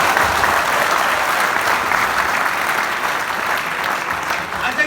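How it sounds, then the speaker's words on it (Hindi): An audience at a live laughter show breaks into steady, dense applause that carries on for about five seconds and tapers only slightly toward the end. "तालियां बजाओ यार"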